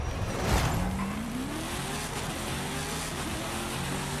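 An Audi Sport Quattro S1 rally car in Forza Horizon 5 drones steadily at high revs, its engine pitch sweeping upward through gears as it races along, with continuous tyre and road noise beneath and no talking.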